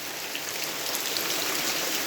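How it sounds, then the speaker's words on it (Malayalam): Heavy rain pours steadily in a dense, continuous hiss, close and loud, with no voices. "നല്ല മഴ"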